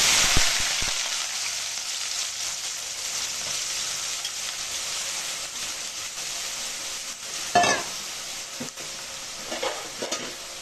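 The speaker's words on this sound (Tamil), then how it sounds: "வெங்காயம் நல்லா வதங்கட்டும்" Mushroom gravy onions sautéing in a hot pan, a steady close sizzle with broadband frying hiss throughout and a few brief stirring scrapes near the end, no talk.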